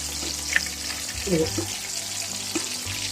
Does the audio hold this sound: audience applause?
no